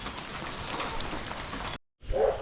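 Steady rain pours down during February flooding in northwest Tennessee, a dense close wash that cuts out briefly to silence before resuming loudly.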